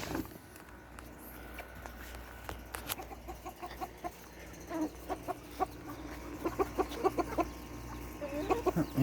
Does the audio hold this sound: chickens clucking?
yes